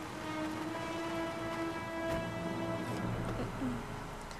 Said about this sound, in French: Il pleut, mais vraiment il pleut